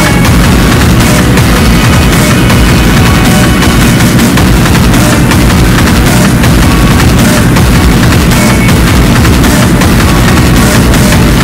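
Dense, loud, continuous gunfire and booms from a minigun in the video game Ghost Recon Breakpoint, a sustained roar of rapid shots with no pauses.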